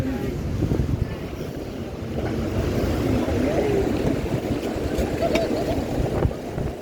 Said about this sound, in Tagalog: Ay, lakas ng hangin. Lakas ng hangin.